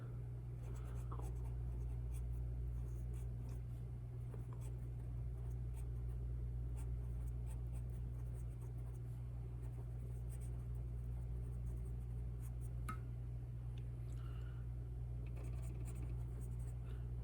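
A pen or pencil scratches steadily across paper while lettering notes, a close, quiet scratching with short strokes throughout over a constant low hum.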